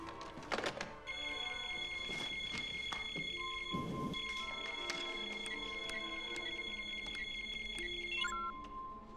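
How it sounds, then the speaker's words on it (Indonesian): A house alarm rings in a film scene, a sustained electronic tone with bright harmonics holding steady for several seconds after a few dull thuds, then cutting off. "Lalu, alarm rumah berbunyi."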